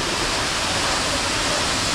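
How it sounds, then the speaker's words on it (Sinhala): Bomburu waterfall in Sri Lanka, heard from the top where the falls begin: a steady, loud, broadband rush of falling water that stays constant throughout, with no voices. "මේ තියෙන්නේ ඇල්ල."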